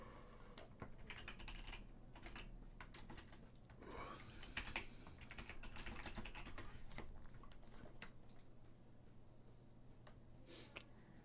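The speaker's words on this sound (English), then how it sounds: "I think you guys can hear the typing now" Faint computer keyboard typing during a coding session, a quiet run of clicking keystrokes in bursts over a low steady room hum, with no speech.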